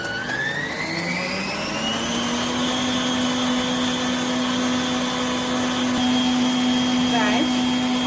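An electric mixer whirs steadily, beating eggs into a sugar mixture for chocolate cake, holding a loud, continuous motor tone that climbs in pitch at the start and then stays level.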